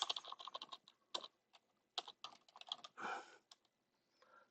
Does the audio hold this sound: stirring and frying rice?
no